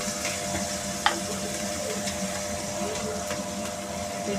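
Chopped ginger, green chilli and ground black pepper sizzle and get stirred in hot frying oil, a steady crackling hiss with a sharp clink from the spoon near the start.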